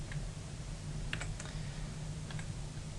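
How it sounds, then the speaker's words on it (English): Numbers being entered on a computer keyboard during a factor analysis demo: a soft, steady run of quick key clicks over faint background hiss, no voices. "if you're wondering why I'm typing this all in"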